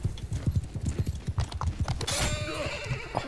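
Rhythmic hoofbeats of a galloping horse in the game Mount and Blade 2 Bannerlord, steady and close, with a whinny near the end and some game ambient noise layered underneath.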